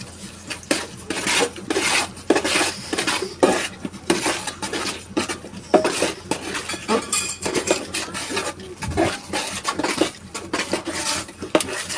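A spoon mixes mashed khurma dates in a pan, making continuous rhythmic scraping and clinking of metal against the cookware. It is loud and close, with no talk.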